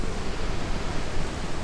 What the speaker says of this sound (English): This is Barak Waterfall.